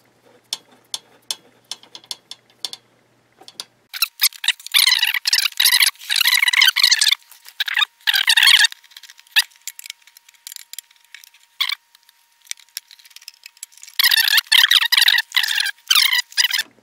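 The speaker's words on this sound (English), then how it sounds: "I will now mount that screw down in there." Screw being driven into a PC case to mount an optical drive during a Ryzen 7 build, heard as scattered close ticks and clicks at first, then bursts of rapid ratcheting scrapes and squeaky metal turning that stop and start.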